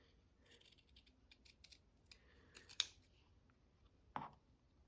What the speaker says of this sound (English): I think I do need to fussy cut the numbers out.